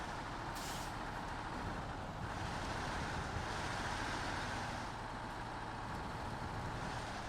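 A truck engine driving in SnowRunner, a dense continuous diesel drone with brief hissing air bursts near the start and middle, loud and steady without speech.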